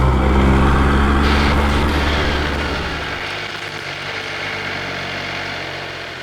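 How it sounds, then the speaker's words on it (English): A Ducati Panigale V2 or MV Agusta F3RR sport motorcycle engine runs with a deep, loud throbbing drone that fades and thins out midway, heard alone without talk. "But that engine just makes up for everything, the noise of it."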